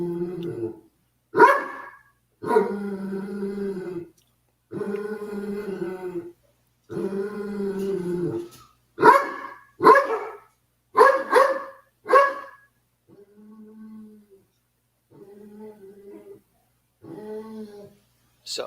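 A dog resource guarding its food bowl barks in loud, close bursts, some long and sustained and others short and sharp, then drops to quieter low growls and grumbles near the end.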